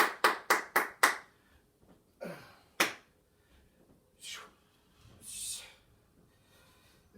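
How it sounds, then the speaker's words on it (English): A person doing a bodyweight workout claps their hands four times in a quick, sharp, close burst, then gives a few more scattered single claps amid quiet breathing and shuffling. "I can clap."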